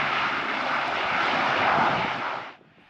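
An airplane comes in to land at Lodwar airstrip, a broad, loud engine roar sustained for a couple of seconds before cutting off abruptly into quiet.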